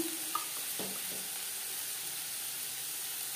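Chopped tomato sizzles in a frying pan while a homemade chicken patty filling is cooked: a faint, even frying hiss with a few soft clinks near the start.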